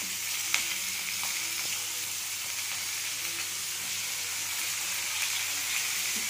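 Onions fry in a pan after cumin has gone in, giving a steady, even sizzle with a few faint clicks from the utensil, fairly quiet and with no talking.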